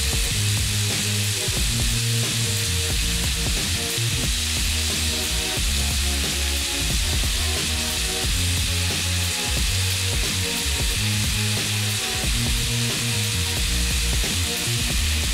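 Minced garlic, added after ginger, sizzles loudly and continuously in a hot pan for a steak stir fry, with a dense frying hiss and frequent clatter from stirring throughout.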